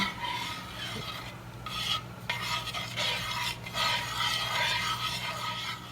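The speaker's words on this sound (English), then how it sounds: "Now you're going to mix your 2 ingredients until they will combine." Coconut milk and condensed milk are stirred together in a bowl, giving a continuous close scraping and rubbing that sweeps in uneven strokes, with no voices.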